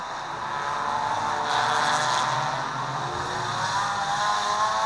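A race car engine drones on a dirt speedway track, a steady loud roar that swells briefly as the car passes nearby, with other engines droning in the background.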